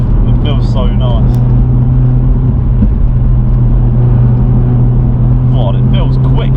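A BMW 1 Series drives fast on a dual carriageway, with a loud, steady engine and road drone filling the cabin throughout and brief voices at times over the roar.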